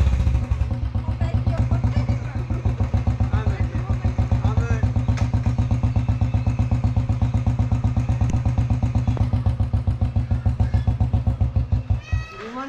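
Royal Enfield Bullet motorcycle idling close by with a loud, steady, deep thumping beat, while people talk faintly under the engine.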